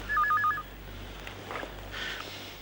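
A telephone gives a short burst of rapid electronic ring beeps at the very start, then a quiet indoor room follows with faint rustling.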